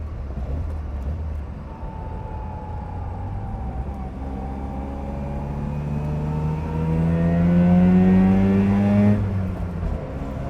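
A 1980 Mazda RX7 rotary engine revs up while driving, its whine climbing smoothly in pitch and growing louder over several seconds, then dropping sharply at the end, with no talking.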